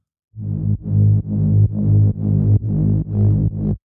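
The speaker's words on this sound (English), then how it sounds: "detune them, then you'll get your sort of basic Reese sound" A thick, buzzing detuned saw-wave Reese bass synth plays a string of eight sustained notes in a steady rhythm, loud and up close, with no other sounds.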